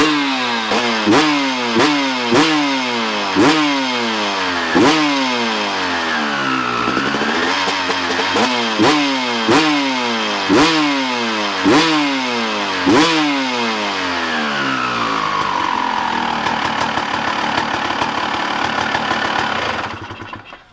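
A Honda CR250 two-stroke dirt bike engine revs hard in sharp repeated blips, each burst rising and falling quickly, close and loud, before settling to a crackling idle and cutting off at the end.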